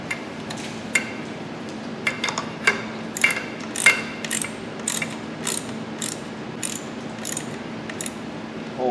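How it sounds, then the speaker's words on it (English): A ratchet clicks in quick, uneven bursts of pawl ticks while tightening a bolt during installation of a 6F50 transmission onto a 3.7 Duratec engine, close up and crisp with brief pauses between strokes. "Then we tighten this one down."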